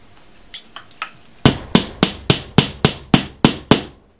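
A plastic wall anchor is hammered into a hollow partition wall: a few light taps, then a run of about ten sharp, evenly spaced hammer blows, close and loud with ringing decay.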